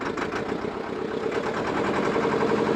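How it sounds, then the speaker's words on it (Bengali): Trawler boat engine running steadily while the boat travels up a tidal canal in the Sundarbans, a close, continuous mid-low drone with faint rhythmic knocking and no talk. "আমরা ট্রলারে উঠে পড়েছি, ট্রলার ভেসেছে, আমরা এখন সোজা যাচ্ছি খালের আগার দিকে"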